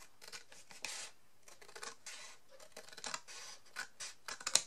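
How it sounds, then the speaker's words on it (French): Scissors cut out a paper scrapbooking motif for a decorated box, with a run of soft, close snips and rustling paper, the strokes quiet and irregular with a few sharper clicks near the end. "Moi, je vais tout découper au ciseau, je préfère, hein, pour pas abîmer mon motif."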